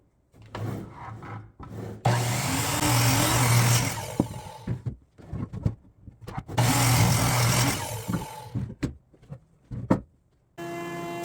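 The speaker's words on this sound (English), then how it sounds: "Here I'm breaking one of those ash boards down to smaller pieces for the legs" Power saw cutting ash boards into smaller pieces for table legs, with two long loud cuts separated by quieter handling knocks and brief motor spin-ups.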